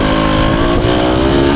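A 1974 Honda MT250 two-stroke enduro motorcycle accelerates through the gears on a woods trail, its loud, buzzing engine close and continuous, rising in pitch as it pulls.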